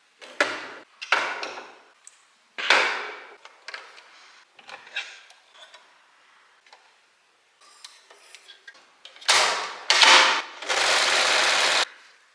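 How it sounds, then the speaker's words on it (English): Domestic sewing machine stitching linen dress pieces, running in short bursts of rapid mechanical whirring separated by pauses and small clicks, close up, ending with a longer steady run. "now it's time to start sewing"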